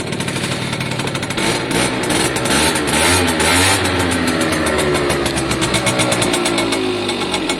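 A WK RT 125 motorcycle engine idles close by in a steady, dense mechanical chatter that holds an even level throughout, with faint pitch wavering and no voices.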